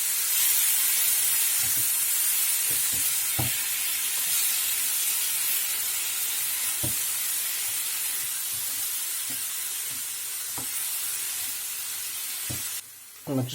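Peppers and the rest of the garlic sizzle steadily in a hot pan while wild wood blewit mushrooms cook, a dense bright hiss holding for the whole stretch, with scattered soft clicks and utensil taps as the mix is stirred.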